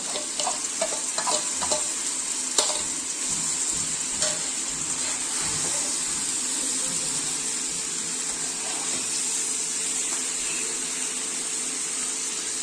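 Fish frying in a pan with mustard paste, a steady close sizzle with scattered crackles and pops, loudest near the start, running on with no voices.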